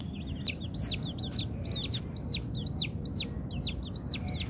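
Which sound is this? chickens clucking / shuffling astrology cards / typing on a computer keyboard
chickens clucking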